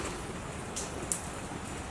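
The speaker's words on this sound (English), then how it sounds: "still raining." Steady rain falling outdoors, a soft continuous hiss with a couple of brief brighter spatters, moderately faint and without voices.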